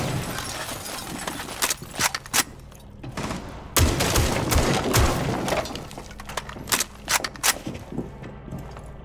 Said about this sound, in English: I'm going to be using my secondary ability, which is the shotgun, to give us some recon to actually see what's below us